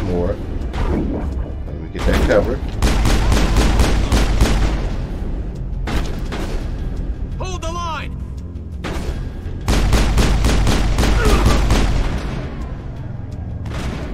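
Rapid bursts of gunfire and booming blasts in a Mass Effect firefight, loud and close, coming in repeated volleys with pauses, and someone talking over parts of it.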